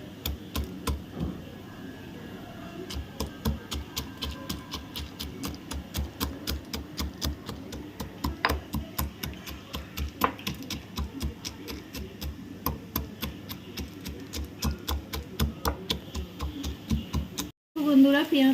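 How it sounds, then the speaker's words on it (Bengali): Roughly 50 g of peanuts are pounded in a mortar and pestle with quick, regular knocking strikes that keep a steady rhythm for several seconds before stopping abruptly. "এবার এই চীনাবাদামটাকে আমি গুঁড়িয়ে নেবো"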